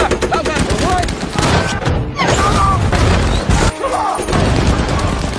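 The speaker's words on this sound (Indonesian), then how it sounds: "senapan mesin yang dipegang oleh Norman, mereka semua pun mulai membabi buta menembaki semua orang." Intense war-film battle with machine gun fire from German troops against a tank, rapid bursts and heavy booms crashing continuously and loudly, with a voice speaking over the chaos.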